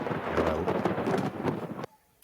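Thunderstorm sound effect during a tabletop role-playing game session, a loud continuous rumble of thunder with crackling bursts that cuts off abruptly, heard alone without talk.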